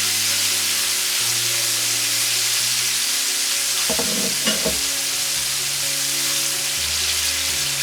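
Dry spices and peppers stirred in a hot pan, producing a steady sizzling hiss with a brief cluster of scraping spatula strokes in the middle, up close against a constant background hum.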